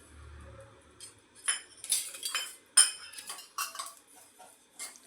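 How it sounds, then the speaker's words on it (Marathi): Sesame seeds are dry-roasted in a frying pan, heard as close, irregular metallic clinks and scrapes of a utensil against the pan, alone with no talking. "आता आपण ह्याच फ्राय पॅन मध्ये तीळ भाजून घेऊया"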